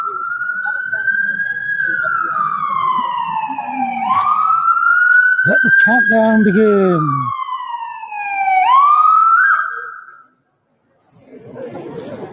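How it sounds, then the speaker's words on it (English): A loud wailing siren rises and falls in long sweeping cycles, with a voice speaking briefly over it partway through before it cuts off. "Big siren."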